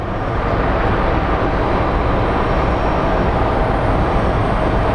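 An American Airlines Airbus A321 built in 2009 arriving at Phoenix Sky Harbor airport, with a loud, steady broadband jet roar that stays constant and close for the whole stretch.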